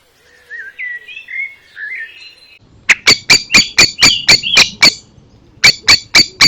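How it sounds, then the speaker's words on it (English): A blackbird gives a run of loud, sharp repeated squawking alarm calls in quick rhythmic bursts, preceded by softer warbling song, outdoors by a wildlife pond on a UK smallholding. "Blackbird has a lot to say."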